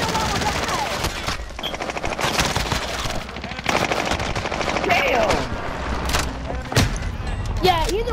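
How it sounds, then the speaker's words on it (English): Call of Duty: Modern Warfare firefight: rapid machine-gun bursts and scattered gunshots crackle loudly over several seconds, with sharp cracks and brief booms, while voices talk excitedly over the shooting. "You're getting shot from tower."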